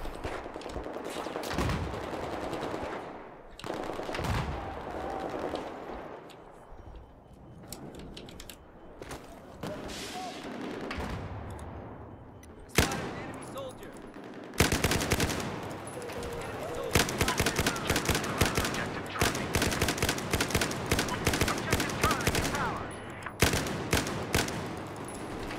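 Rapid machine-gun bursts and scattered single gunshots crack through a Battlefield 4 multiplayer Domination match, growing denser and louder in the second half over continuous battlefield din.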